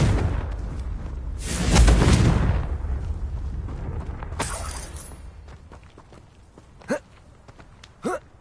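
Confringo blasting spells explode in the Hogwarts Legacy video game, a loud roaring blast that swells and fades, then a second burst, followed by two sharp distant booms later on.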